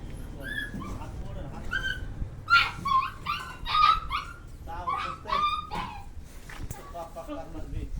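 A puppy whimpers and yips in a series of high, thin cries over a steady low rumble, with people talking nearby on a farm.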